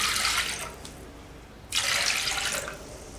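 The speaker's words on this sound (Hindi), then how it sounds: "इसके बाद मैं इसमें डालूँगी 2 गिलास पानी" Water poured from a glass into a pressure cooker holding dal, two pours for two glasses, a steady close splashing stream with a short pause between.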